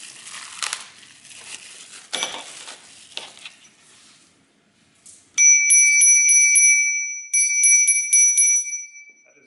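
A bell mounted on a cart rings in two bursts of rapid bright dings, loud and close, following a few seconds of crinkling and rustling handling noise.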